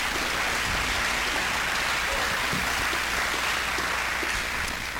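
An audience applauds candidates at a gubernatorial campaign debate, with dense, sustained clapping that fills the room, loud and steady for several seconds and with no speech over it.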